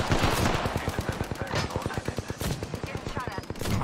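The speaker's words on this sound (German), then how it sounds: "Der schießt da alle kaputt." Video game gunfire: rapid automatic bursts of sharp, evenly spaced shots run nearly nonstop, loud and close, with a player's voice talking over them.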